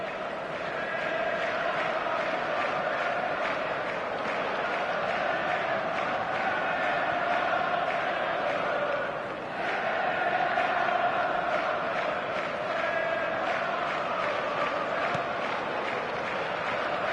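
Stadium crowd in an eFootball match roaring and applauding steadily at a loud, sustained level, with a brief dip midway before the cheering swells again.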